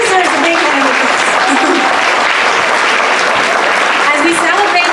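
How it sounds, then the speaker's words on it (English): Crowd at a Democratic Women's anniversary celebration gives a big round of applause, loud and dense clapping filling the room continuously, with voices and cheering mixed in. "That deserves a big round of applause."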